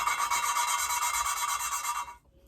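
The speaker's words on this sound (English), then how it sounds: "grit is grinding away material and mating these two surfaces together" Gritty lapping compound grinds an engine valve against its beveled seat as it is spun back and forth, giving a steady, close rasping scrape for about two seconds before stopping abruptly.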